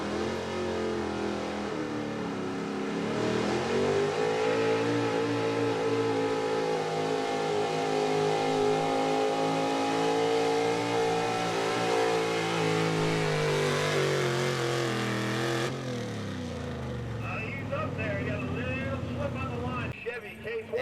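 A 1970 Chevy 4x4 gas pulling truck roars at high revs during a competition pull, loud and sustained with rising and falling pitch, then the note drops sharply as it backs off near the end, with an announcer talking over it.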